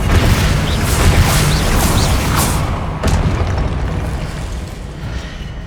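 A Confringo blasting spell going off in the video game Hogwarts Legacy, heard as a loud, rumbling explosion with crackling debris that swells again briefly midway before slowly fading.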